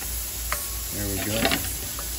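Mushrooms cook in a pan for risotto, giving a steady close sizzle with a few stirring scrapes and a brief voice partway through.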